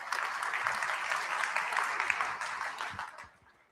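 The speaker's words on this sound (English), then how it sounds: "Please applause for the folks coming in." An audience at an AI summit applauds as people come onto the stage, a steady wash of clapping that fades out near the end.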